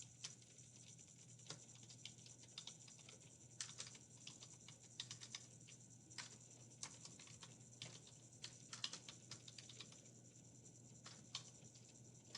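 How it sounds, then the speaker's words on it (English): Rapid, irregular keystrokes on a computer keyboard while entering a long web address, soft and close with light clicks, steady low hum in the background and no talking. "typing this URL is ridiculous"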